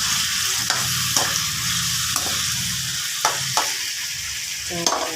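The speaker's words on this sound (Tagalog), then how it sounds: "Isangkot ko natin para malasa yung kamatis, sibuyas," Ginger, tomato and onion are stir-fried in a pan, a close, continuous sizzle broken by repeated scraping strokes of the spatula at a loose, steady rhythm.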